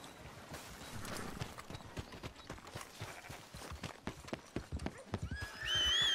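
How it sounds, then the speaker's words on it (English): Clip-clopping hooves of a horse in Red Dead Redemption 2, a steady run of quick taps at moderate level as the horse trots up, ending in a brief whinny near the close. "my horse is here"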